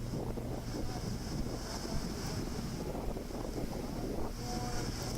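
Waves splash against a jetty during Hurricane Irma, with surf washing in under constant gusting wind buffeting the microphone, a steady blustery roar with no voices.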